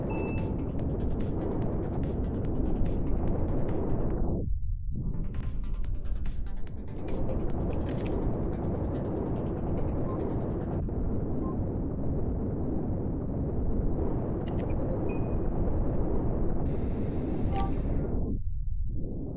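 Missiles exploding in a video game, heard as a continuous, dense, loud rumbling roar lasting nearly twenty seconds. Brief electronic beeps cut through now and then, and the roar drops out briefly twice.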